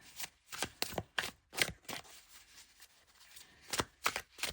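A tarot deck of thin cardstock being shuffled by hand, giving crisp riffling bursts in several quick groups with short pauses between them, close and clear with no talking.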